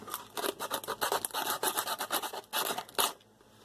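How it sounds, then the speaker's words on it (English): Coarse 80-grit sandpaper rasps against a metal can, stripping its plastic coating in quick back-and-forth strokes that run steadily for a few seconds before stopping, close-up with no voices. "So I have some really coarse 80 grit sandpaper"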